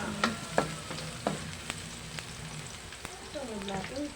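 Garlic fries in a pan with a constant soft sizzle, punctuated by several light taps and scrapes of a stirring utensil; a faint voice murmurs near the end.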